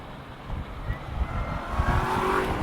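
A 2016 Chevrolet Corvette Z06 accelerating on a track with stability control switched off, its engine note a steady, fairly loud rumble that swells slightly toward the end, with no one talking.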